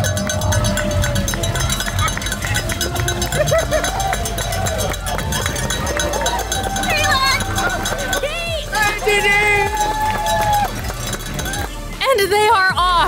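Crowd of runners streaming off the start of a runDisney race at Walt Disney World, with loud continuous footfalls and crowd hubbub throughout, plus scattered clinks and cheering close by.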